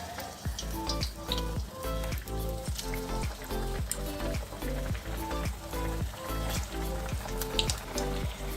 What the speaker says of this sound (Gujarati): તો હવે આપણે ડીપ ફ્રાય કરી દઈએ